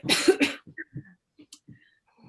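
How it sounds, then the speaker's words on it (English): Two sharp coughs close together near the start, followed by quiet breathing and small throat noises. "I just got a cough for a sec."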